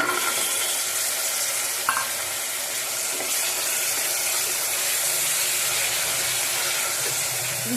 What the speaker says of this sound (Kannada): ಈಗ ನೆನೆಸಿರೋ ಕಾಬೂಲ್ ಚೆನ್ನ ಹಾಕ್ಕೊತಾ ಇದ್ದೀನಿ